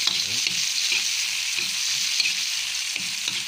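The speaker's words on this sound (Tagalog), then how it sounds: "Igisa muna natin sa sibuyas, kamatis, luya, bawang." Onion, tomato, ginger and garlic sautéing in a pan for a crab dish, a loud continuous hiss of frying with soft rhythmic stirring knocks underneath, close up and without talk.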